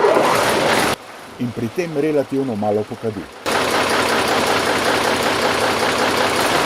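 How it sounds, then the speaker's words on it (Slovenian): A TAM 5500 fire truck engine turns over and runs at idle, giving a steady loud broadband rumble before and after a stretch where someone speaks over a quieter background. "Motor takoj vžge"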